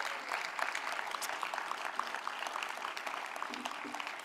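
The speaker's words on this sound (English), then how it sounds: "Give her another round of applause" A crowd at a film and animation festival awards ceremony applauds with steady, dense clapping that stays fairly distant and soft. A few voices murmur faintly beneath it.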